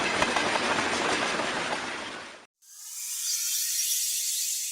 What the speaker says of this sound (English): I think few have seen such a smoky train in real.